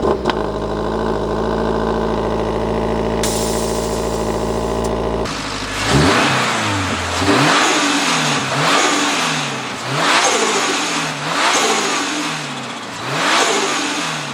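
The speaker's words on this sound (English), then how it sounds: "let's give it a cold start and let's give it a couple revs to hear that turbo." Turbocharged Toyota GR86 starting from cold with a loud burst, settling to a steady idle, then revved repeatedly in a series of rising and falling blips, close and loud with no talking.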